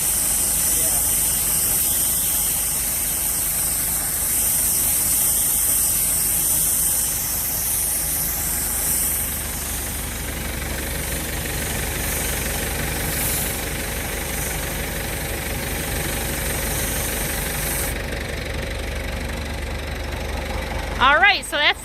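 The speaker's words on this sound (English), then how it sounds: "It's flipping off the bumpers as he spins." A round bale wrapper spins and wraps a bale on a farm, giving a steady mechanical drone with a hissing, whirring layer over an engine rumble. Brief rattles come near the end.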